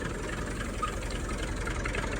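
A tractor engine idles steadily with a low, continuous rumble and slight knocking vibration, close by and without any talk.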